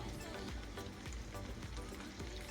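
Potatoes and onions fry in grease in a pan, giving a steady, close sizzle that stays even throughout, with soft periodic low thumps and no talking.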